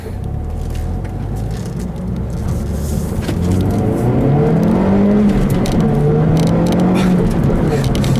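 A 2012 Mazdaspeed3 engine pulls hard at full throttle on a back road and climbs in pitch as it gathers speed, a loud steady roar with road noise beneath, rising through the gears.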